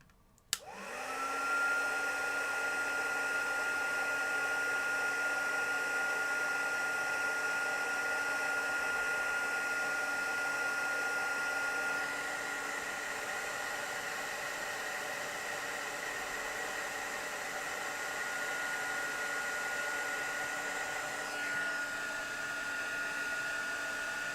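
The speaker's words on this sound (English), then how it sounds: "And I'll just use the heat tool. Alright, I'll just switch that on now." A heat tool for embossing powder on a handmade card switches on with a click and then blows a steady, loud whir with a whining tone for over twenty seconds.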